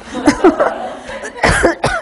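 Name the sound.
person coughing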